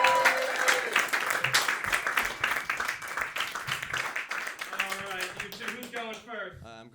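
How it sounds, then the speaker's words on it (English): A comedy club audience at a roast battle applauds with dense, steady clapping, while a host's amplified voice talks over it and becomes clearer toward the end. "start clapping right now for Pauline Murphy"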